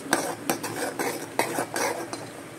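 Semolina being roasted in a pan for South Indian rava kesari halwa, with a spoon scraping and stirring in repeated close clinks and scrapes, with no talk.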